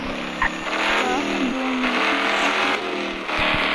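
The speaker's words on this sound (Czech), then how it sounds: "auto jede." A car engine revs and drives in the Car For Sale Simulator video game, a steady loud motor drone with shifting pitch and a few brief tire or road noises, no talk over it.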